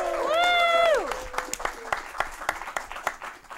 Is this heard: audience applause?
yes